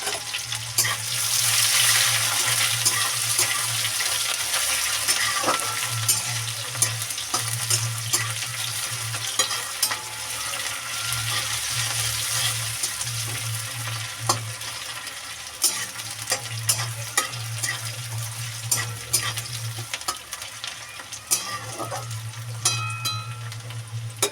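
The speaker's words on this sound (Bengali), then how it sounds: "এইবার দিয়ে দেবো আমি কেটে রাখা পেঁয়াজ" Chopped onion and crushed garlic frying in a pan, a steady close sizzle broken by repeated scraping strokes of a spatula and occasional clinks, with no speech.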